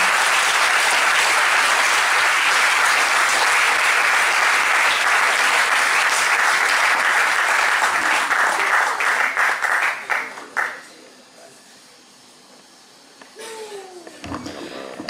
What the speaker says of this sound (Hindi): एक बार जोरदार तालियां बजा दें इन कवियों के लिए।